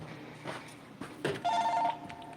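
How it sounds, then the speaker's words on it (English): A telephone rings in a video game set in a castle, a short trilling electronic ring rising above quiet background noise, heard once and clearly with no talk over it. "We got phone call here."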